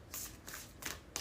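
Tarot cards shuffled by hand during a reading: a quiet, close run of soft riffling bursts repeating quickly over about a second.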